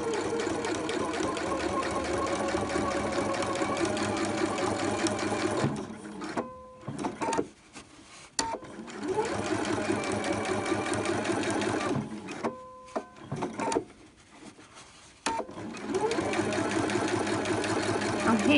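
A domestic sewing machine stitches a zipper seam into a dress, running in long steady bursts with short pauses where the needle is held down, close and loud while a voice talks at times.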